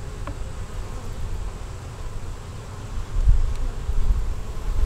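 Honey bees buzzing around an open hive, a dense low continuous drone close by, steady throughout with slight swelling in loudness and no speech.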